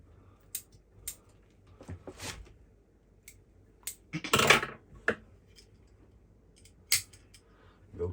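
Scissors snipping a small garden centre juniper being shaped into a bonsai, a series of sharp, close, quiet clicks at irregular intervals with a longer rustle of foliage midway, no talking.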